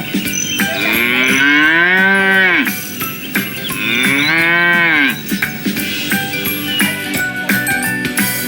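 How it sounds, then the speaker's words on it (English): A cow moos loudly twice in long, drawn-out calls, followed by clanking and jingling like a cowbell nearby. "It's a cow."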